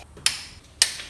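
Torque wrench clicking as it reaches setting while tightening cylinder head bolts on a Honda D16 engine from a Civic EG; two sharp, close clicks about half a second apart with quiet between.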